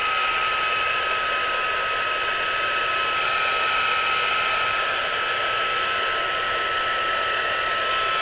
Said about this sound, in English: I want to see what happens if I hit it with the heat gun now